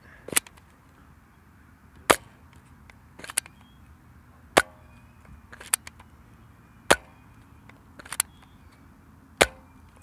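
A stock Nerf N-Strike Modulus Barrelstrike blaster firing darts at a range, seven or eight sharp snapping shots spaced a second or two apart, close and loud with no talk.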